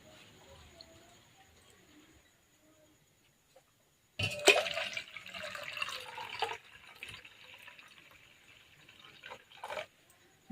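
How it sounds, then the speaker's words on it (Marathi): Moth beans (matki) being washed in water: after a few quiet seconds, loud, close splashing and pouring begins and continues with sloshing and a few sharper splashes until the end. "स्वच्छ दोन पाण्याने मस्त धुवून घ्यायचं आहे"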